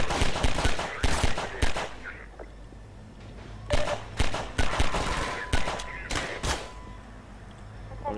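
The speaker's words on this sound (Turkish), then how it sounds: "Kim vuruyor beni ya?" Enemies in Half-Life 2 open fire in repeated loud bursts of automatic gunfire with sharp impacts. Quieter gaps fall between the volleys, and a voice is heard in between.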